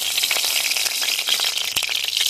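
A dense, steady hiss of dry chilies, bay leaves, onion and garlic frying in hot oil fills the clip, with faint rattling crackles throughout and one sharper pop near the end.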